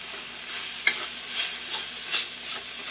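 Green, red and yellow capsicum with carrot stirred in a hot frying pan, a soft steady sizzle broken by a few scraping strokes of the spoon, close up, with no talking.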